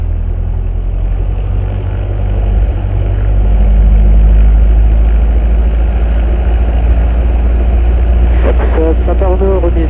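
A TB9 light aircraft engine runs up at 1800 rpm, giving a loud, steady low drone that fills the whole stretch from close range, with a voice speaking briefly over it near the end.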